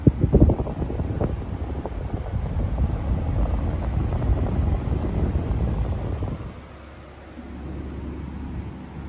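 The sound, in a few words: Midea U 6,000 BTU window air conditioner running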